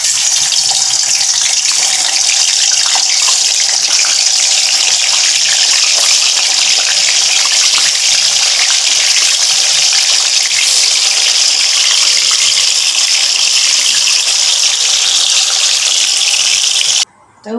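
Salted tofu pieces frying in hot oil for tofu sambal, giving a steady, loud, hissing sizzle that runs unbroken for many seconds before stopping abruptly at the end.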